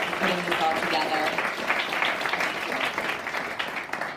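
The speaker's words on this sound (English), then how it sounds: "Big round of applause for Liza for putting this all together" Audience applause at a professional development and networking event in New York City, a steady mass of clapping with a murmur of chatter and voices mixed in throughout.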